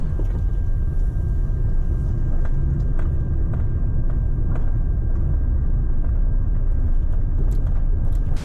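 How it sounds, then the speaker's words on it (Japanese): A Nissan NV200 camper van rolls along a narrow, dark side road, giving a continuous low engine and road rumble close by, with occasional light ticks and thumps from the cabin. "こんな暗黒への入り口みたいな道でもこの NV200 なら進むことができます"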